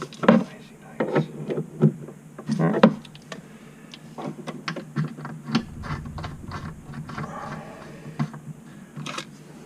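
A ratchet tool clicks in short bursts while parts are tightened, quiet, close-up mechanical ratcheting with clanks and handling noises between strokes.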